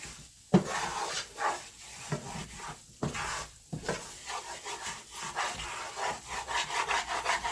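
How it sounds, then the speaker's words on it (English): A utensil scrapes the bottom of a frying pan while rabbit gravy is made, with steady rough rubbing strokes and a few sharper knocks against the pan. "You want to scrape the bottom of the pan real good."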